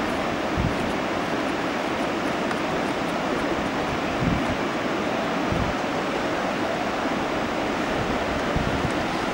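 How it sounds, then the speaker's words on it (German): Sea surf rolls onto a beach on Spain's Costa de la Luz at Novo Sancti Petri, a broad continuous wash of waves with occasional low thumps of wind buffeting the microphone, no talking. "Ein traumhaftes Meer."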